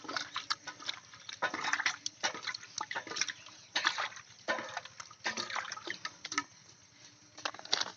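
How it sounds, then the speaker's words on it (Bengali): Crushed native makal fruit is worked into water by hand, giving soft wet patters, squelches and trickles in irregular bursts, close and fairly quiet, with no talking. "ফাটিয়ে আমি জলের মধ্যে দিয়ে দিলাম, জলের মধ্যে গুলে দিলাম"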